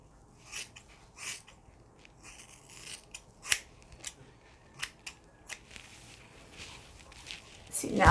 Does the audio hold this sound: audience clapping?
no